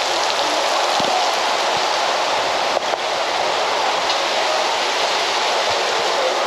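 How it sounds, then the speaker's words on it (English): Steady rain hisses outside in Ilam, Nepal, a dense, even wash of falling water with a brief knock near the middle and no speech. "so it's still raining outside"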